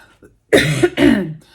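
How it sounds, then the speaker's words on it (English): Two loud, harsh coughs close to the mic, one right after the other, preceded by a faint breath. "sorry about that, got a cough today"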